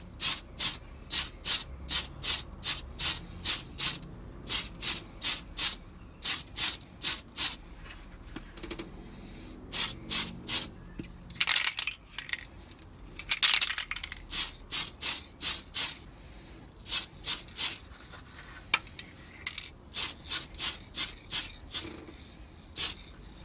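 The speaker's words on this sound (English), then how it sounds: "What we're looking at doing in this clip is priming the Jag body and priming the Jag chassis." Short, sharp bursts of aerosol spray primer hiss in quick rhythmic series across a Corgi Toys No. 208 Jaguar 2.4 Litre model body, with a few brief pauses and scraping handling sounds between runs.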